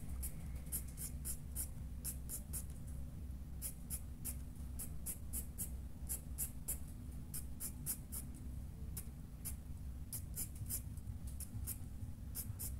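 A mechanical pencil scratches softly across paper while pet fur is drawn. Quick, short strokes repeat in close bursts against a low, steady background hum.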